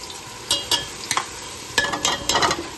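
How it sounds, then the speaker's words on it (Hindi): Spices frying with freshly ground garlic in oil for fish curry, a loud close sizzle broken by repeated spatula stirs and scrapes in uneven bursts. "अब ये मसाले भी डाल दिए मैंने इसके अंदर, मसाले भून लूँगी अच्छी तरह से"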